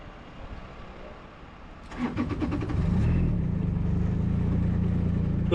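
Giant 1200tele telehandler engine cranking over and catching about two seconds in, then settling into a steady, close idle rumble, heard alone without talk.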